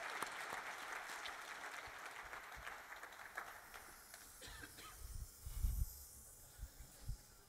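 An audience at the Hult Prize 2025 Global Finals applauds a team coming on stage: a dense burst of clapping that starts strong, then thins and fades over several seconds.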